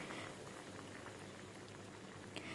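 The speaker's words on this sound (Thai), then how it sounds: "ตอนนี้น้ำเดือดจัดๆแล้ว" A pot of water boils hard for candied pumpkin, with a dense, steady bubbling and popping, close and continuous with no voices.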